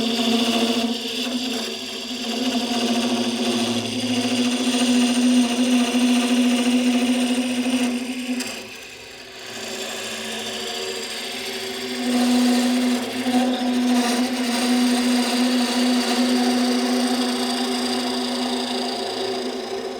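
A wood lathe spins steadily while a bowl gouge cuts a small nut bowl, giving a continuous humming whine with a scraping cutting texture that dips briefly midway, with no talking.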